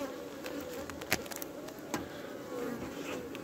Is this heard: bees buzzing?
yes